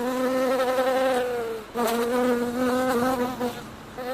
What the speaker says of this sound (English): People don't like buzzing,